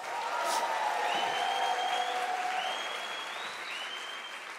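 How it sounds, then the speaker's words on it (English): At a University of South Africa autumn graduation ceremony, a seated audience claps in a dense, sustained round that slowly tapers. Faint tonal sounds drift over the clapping. "You deserve a round of applause for that."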